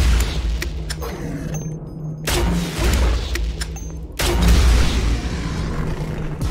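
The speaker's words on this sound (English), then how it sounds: "the grenade launcher literally cleared out the whole sequence for me" Grenade launcher explosions in the video game Project Warlock 2: two big booming blasts land about two seconds apart, each followed by sustained rumbling debris amid ongoing combat noise.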